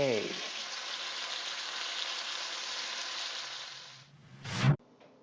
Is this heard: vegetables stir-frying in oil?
yes